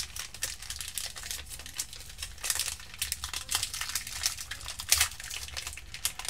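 Close, continuous crinkling and rustling of 2018-19 Donruss soccer card packs and plastic sleeves being handled, a soft irregular patter of crackles with no talking.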